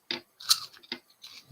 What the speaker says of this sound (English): Nice crunch.